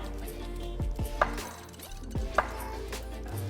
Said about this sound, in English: The only thing we need to do to these is we're going to quarter them.